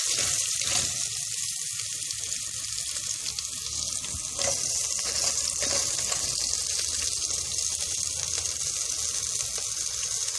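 Pasta with onion, salt and pepper fries in a pan with a constant close sizzle, broken by scraping and clattering as it is stirred around.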